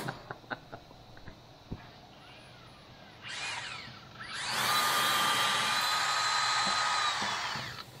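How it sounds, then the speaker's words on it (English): A few sharp taps and knocks, then a power drill winds up and whines loudly for several seconds, its bit drilling out aluminium with a high-pitched tone. "the drill bit's going to grab them and pull them all out"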